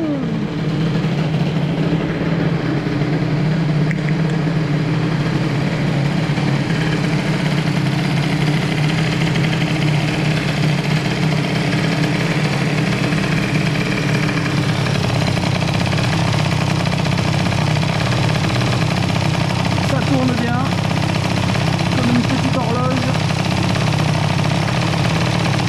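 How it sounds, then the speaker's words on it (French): A moped engine fitted with an Airsal XT 77 kit runs steadily near the microphone, a constant buzzing idle broken by a couple of short throttle blips late on, with no talk. "On va laisser tourner un petit peu et on va voir si le gros coup de gaz nous donne un wham net"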